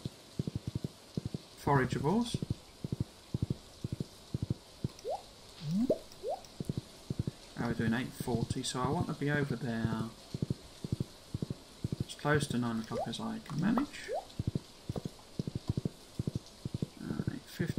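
Horse hooves clip-clop in a steady, even rhythm throughout a ride in Stardew Valley, with a person talking over much of it.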